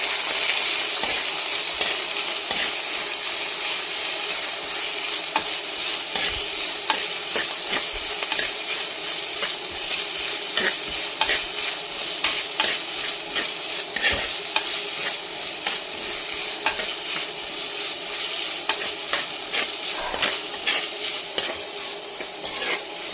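Ginger and other stew ingredients are stirred in a hot pan under a continuous loud sizzle, with a spoon scraping in a loose, irregular rhythm throughout and no voices.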